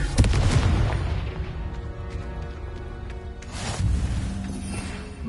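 Confringo fire spell exploding in the Hogwarts Legacy video game, a loud booming blast at the start followed by rumbling debris and a second swell of crackling energy, with no talk over it.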